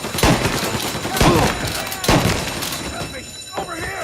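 Rapid gunfire from a 1930s gangster shootout in the video game Mafia: Definitive Edition, sharp repeated shots in quick bursts with shouting voices mixed in.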